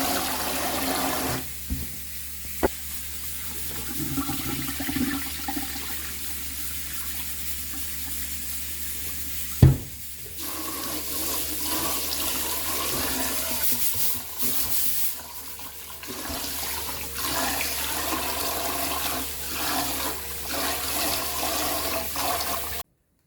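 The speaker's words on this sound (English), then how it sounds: "So sometimes I wash my rice in a different container other than the pot, and the next time, I just throw it in the pot and just wash it." Rice is washed in a cooking pot under steady running water, a continuous close rush and splash of water from a tap lasting throughout, with one brief clunk partway through and no talking.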